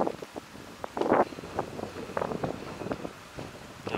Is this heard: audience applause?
no